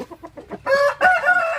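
Shamo Aseel gamecock roosters in the Philippines, close and loud: a run of short rhythmic clucks builds into two strong, drawn-out crows, with no talking.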